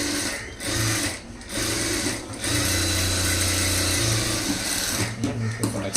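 Sewing machine top-stitching blouse lining cloth over the main fabric, a continuous close mechanical whirr in several runs separated by short pauses.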